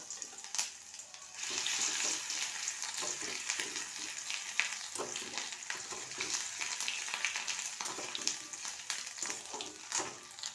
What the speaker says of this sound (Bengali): তেলে দিয়ে দেবো হাফ চামচ আদা রসুন বাটা